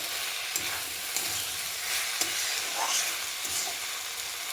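Cabbage curry being stirred in a pan over low-to-medium heat, a steady sizzle with repeated scrapes of the spoon against the pan, close and fairly loud, with no talking.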